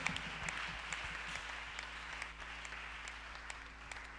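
A church congregation at a wedding blessing breaks into sustained applause, dense and even clapping from many hands with a low hum beneath.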